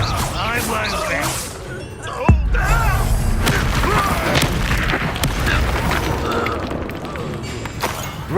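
Confringo spell explosions in Hogwarts Legacy: one strong, sudden boom stands out, followed by crashing and thudding impacts, while voices shout and talk over the fighting.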